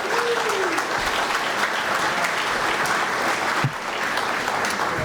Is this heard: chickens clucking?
no